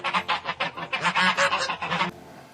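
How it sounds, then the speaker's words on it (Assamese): A swan calling in a rapid run of loud, close honking notes, about a dozen pulses over two seconds before cutting off abruptly. "সোৱান সোৱান মানে ৰাজহাঁহ"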